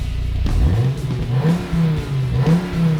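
A sports car engine revs hard, rising and falling in pitch several times, loud and close, with no voices over it.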